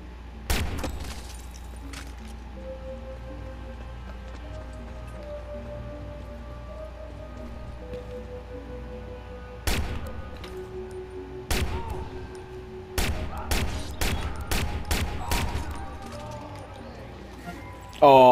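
Gunfire in the video game Watch Dogs Bad Blood: a handful of sharp, scattered shots and a fast burst of several rounds cut across a steady in-game background with tonal hum, fairly loud against the mix.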